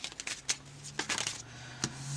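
Tarot cards are shuffled by hand in a few quick, papery riffles and slaps, close and fairly loud against a low steady hum, with no one talking.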